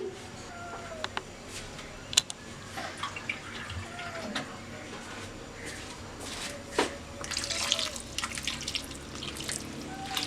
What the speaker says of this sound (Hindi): अब मैं इसमें थोड़ा पानी ऐड करूँगी।